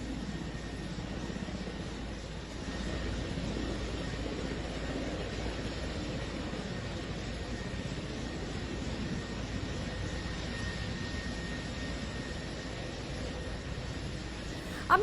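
Helicopter landing during the Bangladesh crisis with Sheikh Hasina aboard, a steady distant engine and rotor drone holding at low level throughout with no voices.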